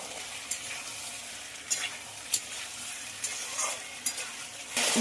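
Ridge gourd frying in a ground spice paste with turmeric and salt hisses steadily up close, with a few sharp stirring scrapes punctuating the sizzle and no talk over it.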